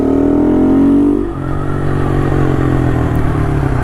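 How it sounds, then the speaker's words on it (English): A Honda Monkey motorcycle with aftermarket exhaust and intake, revved hard close up with a rising buzzy engine note and strong induction roar, then dropping back to a busy rattling idle. "It's a lot of induction noise."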